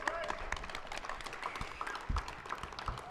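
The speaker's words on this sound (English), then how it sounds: "So big round of applause for the race director." Scattered applause and clapping from a gathered crowd at a Western States Endurance Run pre-race interview event, fairly faint and distant, with voices mixed through it.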